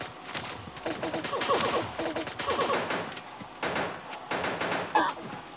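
In the Pixel Gun 3D video game, weapons fire in rapid automatic bursts of rattling gunfire, with several bursts and single loud shots coming one after another.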